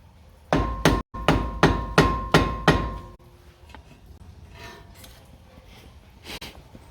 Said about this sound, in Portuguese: Vou colocar aqui. Vou bater para empurrar para dentro ali.